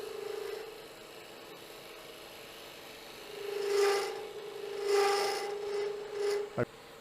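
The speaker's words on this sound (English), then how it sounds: "I'm going to have to use my spindle gouge to get in there" A spindle gouge undercuts a shoulder on a small wooden finial spinning on a lathe, giving a steady motor hum overlaid with a few swelling rasping scrapes as the tool bites, ending in a sharp knock.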